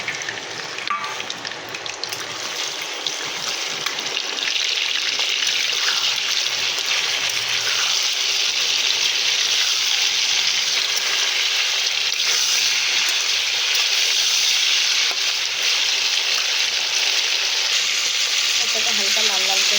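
Chicken pieces, rubbed with salt and lemon and drained, fry in hot oil in a pan with a steady, loud sizzle that runs unbroken throughout.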